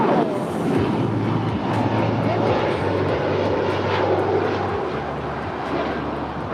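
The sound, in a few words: airplane landing at LAX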